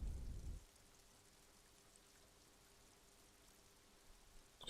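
Rain falls in the video game Disco Elysium as a soft, steady hiss that runs throughout, with a brief low rumble at the very start.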